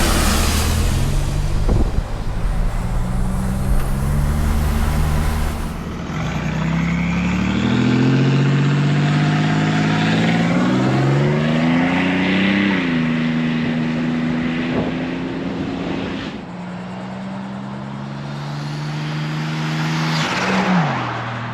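A 1987 Buick Grand National with the lightweight package on a test drive, its engine droning and rising in pitch through gear changes under steady road and wind noise, loud and close throughout with no talking.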